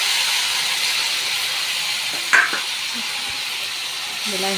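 Chili garlic paste and tomatoes hit a hot frying pan of fried onions with a loud, steady hissing sizzle, broken by a brief clatter of stirring and light utensil knocks.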